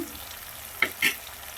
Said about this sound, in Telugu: దీన్ని చక్కగా ఉడికి చక్కగా గోల్డెన్ కలర్ వచ్చేంత వరకు బాగా వేయించుకొని